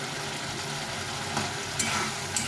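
Egg and potato curry sautés in a pan, giving a continuous close sizzle with brief scraping stirs.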